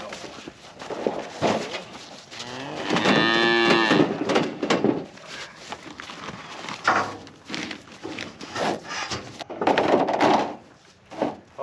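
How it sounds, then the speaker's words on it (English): A cow lets out a long, loud moo in the middle, surrounded by shuffling, clattering farm noises and scattered bumps. "let's go feed the big cows"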